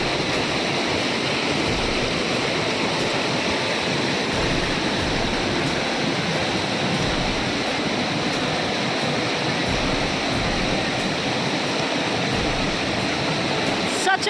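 Water of Jung Falls in Arunachal Pradesh rushes in a steady, loud, continuous broadband roar with no breaks, dense and close, with no voices over it.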